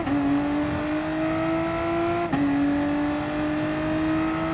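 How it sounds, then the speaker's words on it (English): A VW Supersport race car at the Red Bull Ring roars steadily close up as it brakes hard, the engine note dropping across a sustained loud drone, with a brief dip and downshift midway before the tone climbs again. "And I am fully on the brakes there."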